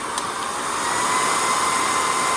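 A cordless stick vacuum cleaner runs with a steady high-pitched motor whine and airflow hiss, close and loud, rising slightly as it spins up and then holding steady.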